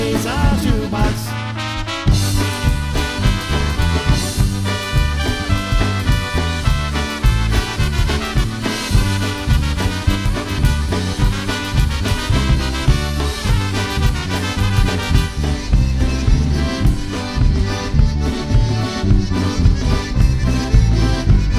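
A polka song by a Wisconsin band plays loud and continuous, with a bouncy steady beat and full band instrumentation throughout.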